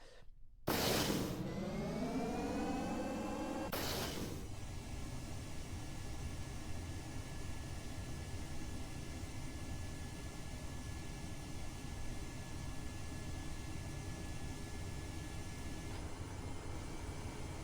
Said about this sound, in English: Afterburner engaged.